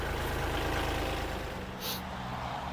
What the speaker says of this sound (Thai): รถไถนะครับ Kubota L4018SP นะครับคันนี้